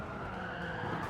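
A Ferrari in Gran Turismo 7 skids in a short burst of tire noise over a low engine rumble, steady and fairly quiet, with no voices.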